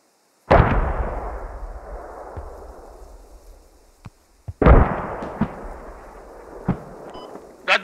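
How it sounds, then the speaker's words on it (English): Mortar rounds landing on players in the Squad video game: two loud, close booming impacts a few seconds apart, each trailing off in a long rumble, with smaller cracks and pops between them. "Are those friendly mortars? I don't know, but they're hitting us."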